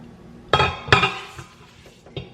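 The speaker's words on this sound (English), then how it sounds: "All I do is just take it out, put the rice inside of the pot." Stainless steel rice pot insert clanking as it is handled, with two sharp metallic knocks close together and a lighter clink a moment later, close and fairly loud.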